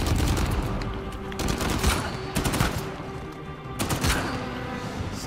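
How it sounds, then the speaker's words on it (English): Rapid bursts of gunfire from the Uncharted 4 video game, several loud volleys with short pauses between them, sounding continuous and close. "You're so good at shooting."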